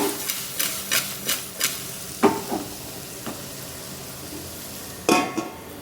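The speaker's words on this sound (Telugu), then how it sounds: "మధ్య మధ్యలో ఇలా తిప్పుకుంటూ ఉండాలండి" Ridge gourd pieces cooking in a pan while a spoon stirs them, making a run of sharp, evenly spaced scrapes and clinks over a faint low sizzle, with a few louder knocks later.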